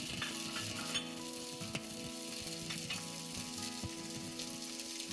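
Vegetables, green peppers and noodles sizzling in a pan during a vegan stir fry, a steady close hiss with faint scrapes of stirring throughout, no voices.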